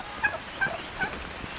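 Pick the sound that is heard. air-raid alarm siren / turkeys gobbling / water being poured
turkeys gobbling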